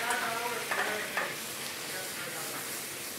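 Lemon juice sauce bubbling and sizzling in a hot pan after deglazing a seared-scallop pan, with steady stirring scrapes; a close, continuous frying hiss throughout.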